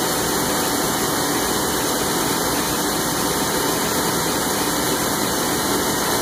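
A telescope camera mount part being machined with coolant gives off a steady, continuous broadband wash of machine and coolant-spray noise with a low engine-like hum, unbroken and alone, with no talking.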